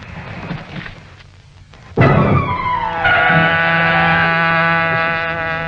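A 1940s car engine roars up suddenly and loudly, then holds a strong, steady whine as the vehicle speeds along, with a rising pitch shift midway.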